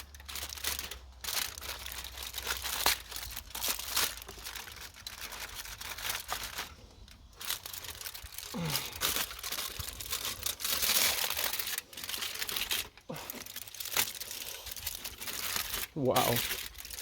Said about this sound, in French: on va les déballer